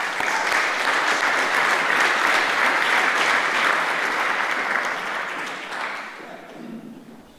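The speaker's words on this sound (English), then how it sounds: "please, Aubrey, welcome to the stage. Give him an applause" A conference audience applauds a speaker coming to the stage at a talk event, with dense, sustained clapping from a large room that holds steady and then fades out over several seconds.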